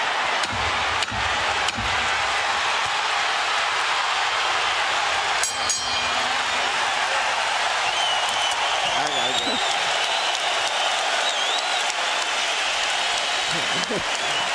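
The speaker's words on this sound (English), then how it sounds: "As the crowd stands en masse to applaud" A boxing crowd at Boardwalk Hall in Atlantic City stands and applauds, a dense roar of clapping and cheering filling the arena throughout, with a commentator talking over it.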